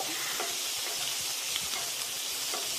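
Food sizzles steadily in a hot pan, with soft scraping and clattering stirring strokes repeated throughout, close and moderately quiet, with no talking.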